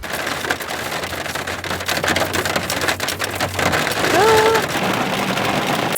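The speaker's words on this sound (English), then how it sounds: "it's pouring with rain" Heavy rain pours steadily onto a small car, a loud, dense drumming and pattering that continues without a break, with a brief faint tonal sound near the end.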